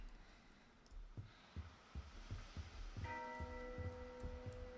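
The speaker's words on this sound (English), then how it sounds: "sounds like a bell" A bell rings clearly with a sustained tone, over a soft, regular low thumping pulse and faint background hiss.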